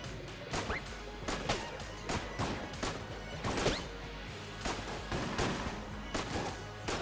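A gun in Enter the Gungeon fires a series of sharp, punchy shots at an uneven pace, each a crisp crack or smack, moderately loud against steady game background noise.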